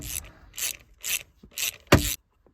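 A hand ratchet tightens bolts into the aluminum transmission housing of a 1995 Mustang GT with a manual gearbox. Five short bursts of close clicking come in an even rhythm, the last one sharper and louder.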